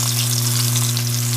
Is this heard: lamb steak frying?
yes